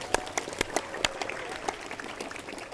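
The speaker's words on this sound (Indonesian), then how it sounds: "mari kita tepuk tangan untuk sekolah kita." Students at a school talk show event clap for their school, a light, scattered patter of many hands, fairly soft and slightly distant.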